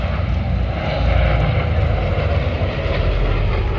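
A DC-6 airliner powered by four 2,500-horsepower Pratt & Whitney radial engines drones loudly and steadily at an air festival, a thick continuous roar with no breaks and no voices over it.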